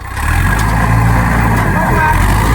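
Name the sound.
tractor engine revving, stuck in mud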